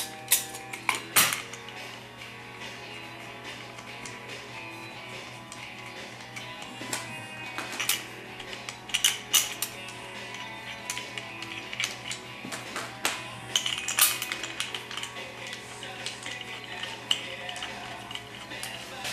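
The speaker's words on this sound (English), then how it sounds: "Go ahead and install your 6 bolts and then snug them down." Six bolts threaded and snugged down on a TH400 transmission during assembly, with scattered metallic clinks, ratchet ticks and tool taps over a faint steady hum, close and fairly quiet.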